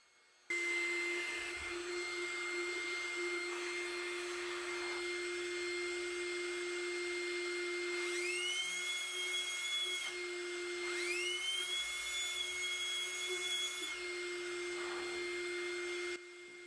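A Bosch EasyInflate 18V-500 cordless air pump runs with a steady high electric whine and motor hum, its pitch rising and shifting twice as the nozzle is fitted, then stops near the end.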